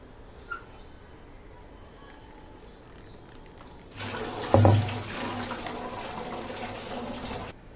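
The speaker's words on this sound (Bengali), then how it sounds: "আমি ওপর থেকে একটু ঠান্ডা জল দিয়ে দিলাম।" Cold water is poured from above over parboiled rice in a strainer for chicken biryani, a steady close splashing rush that starts suddenly after a quiet stretch and continues to the end.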